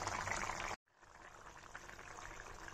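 Fish curry of climbing fish with potatoes simmering in a pot, a steady close bubbling and hiss that breaks off for a moment and then resumes at a slightly lower level.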